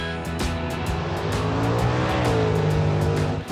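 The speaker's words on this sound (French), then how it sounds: "Amateurs de vitesse et de performance s'éclatent la pédale au plancher dans leur bolide de rue ou" Modified street cars and souped-up racers tear past at full throttle, a loud, continuous engine roar with rising and falling revs and tire noise, no voices over it.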